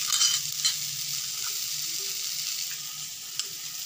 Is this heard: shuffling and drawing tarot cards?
no